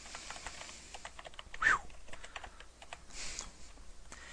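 A computer keyboard clatters with quick irregular keystrokes in a quiet room, light close clicks in bursts with a couple of louder taps.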